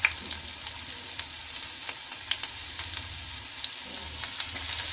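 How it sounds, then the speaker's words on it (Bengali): Garlic hitting hot oil in a pan for a Bengali-style pasta, a steady close sizzle with scattered crackles and pops, continuous and fairly loud without any voices. "রসুন দিলাম প্রথমে"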